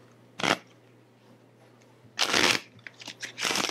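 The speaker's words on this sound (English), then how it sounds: "That was a beautiful shuffle. Let me try that again." Two quick riffle shuffles of a deck of playing cards, a short burst followed by a longer flurry of fluttering card snaps, close up with quiet pauses.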